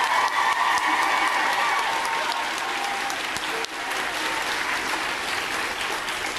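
Theatre audience at the Gaiety Theatre in Dublin applauding Mrs. Sabina Higgins, a full, sustained roar of clapping with a slight dip midway, then continuing strongly.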